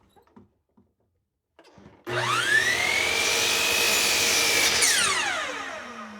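A power saw spins up after a few faint knocks and cuts a wooden piece to length for a long bar clamp build, a loud sustained whine that shifts in pitch through the cut and then winds down.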